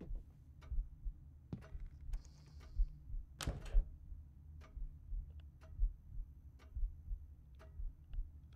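Clock ticking in the Paranormal Activity: The Lost Soul VR game, a quiet regular tick-tock at about one beat per second, with occasional faint knocks and clicks in a hushed room.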